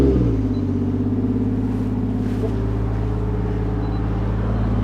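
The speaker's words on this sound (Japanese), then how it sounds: "ちょっとエンジンかけてね。" A Toyota JZX100 Chaser Tourer V engine fires up and settles into a loud, steady, deep idle close by, a low even rumble with no talking.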